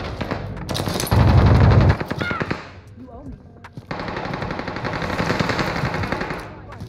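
Rapid automatic gunfire in a battle royale shooter game crackles in dense bursts, loud and close, with one heavier blast and a brief lull between volleys. A voice talks over part of it.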